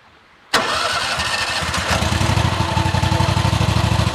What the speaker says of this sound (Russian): Включаю, завожу машину.